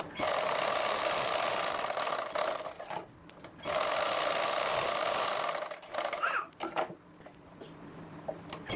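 A sewing machine stitches a blouse lining in two long, steady whirring runs broken by short pauses, with some small handling rattles near the end. No one talks.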